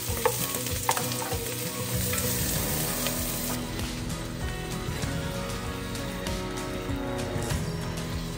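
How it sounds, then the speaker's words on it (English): Onions and ground beef fry in a pan in an off-grid house in the woods, giving a loud, continuous close sizzle with stirring scrapes throughout and no talking. "So I have my onions going, then I added my burger"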